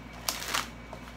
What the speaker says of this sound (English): let's shuffle and let's get to it